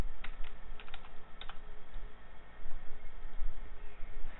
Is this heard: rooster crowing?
no